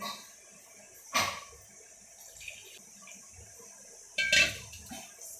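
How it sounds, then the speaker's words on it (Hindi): Water pours into a karwa pot in two short splashing bursts, close and fairly loud against a quiet room. "और इसमें हम भरते हैं पानी।"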